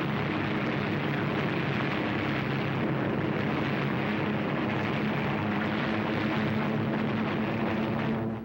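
A WWII warplane dives low over a Japanese island base, its engine a loud, steady, unbroken roar throughout.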